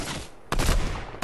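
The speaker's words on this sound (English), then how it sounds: "I hit him with the AUG." AUG rifle gunfire in Fortnite, a loud burst of rapid shots starting abruptly mid-clip after a quieter stretch, followed by another sharp shot at the end.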